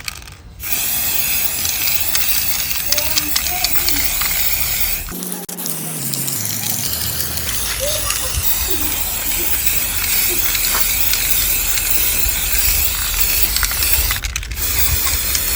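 Motorcycle parts for a custom bullet-style bike are spray painted with a continuous close, loud hiss, interrupted briefly around the middle before the steady spraying resumes.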